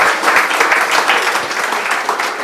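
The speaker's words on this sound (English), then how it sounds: "Round of applause." A crowd at a Wellington AI public-good talk gives warm, sustained applause, dense and fairly close, holding steady for a few seconds before tapering slightly.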